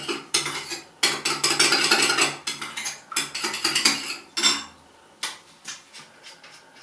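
A mixture of green almond oil is stirred in a bowl, with quick rhythmic clinking and scraping of a utensil against the sides in several bursts, close and clear, fading into sparse taps toward the end.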